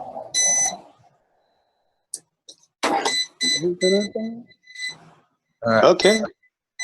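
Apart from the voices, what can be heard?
energy meter beeping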